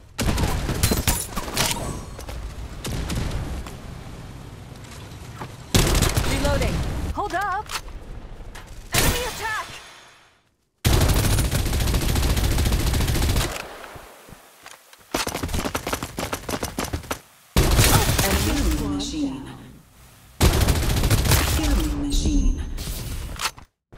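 Rapid bursts of automatic gunfire in the Farlight 84 shooter game, loud and dense, separated by brief gaps, with game voice lines spoken over the shooting.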